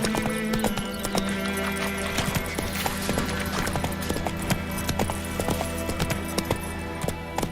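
Hooves of the horse Roach clip-clop steadily in The Witcher 3, the gait easing and slowing, with a brief whinny and game music and ambience underneath.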